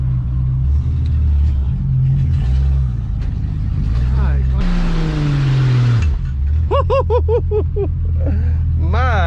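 A 1962 Ford Falcon Tudor, rescued after being abandoned, idles and is driven with a steady low engine rumble. A voice talks loudly over it throughout, and a short rush of noise passes midway.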